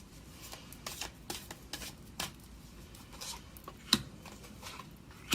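Tarot cards are shuffled by hand, making soft, intermittent rubbing and riffling swishes close by, quiet overall, with a few sharper flicks and no speech.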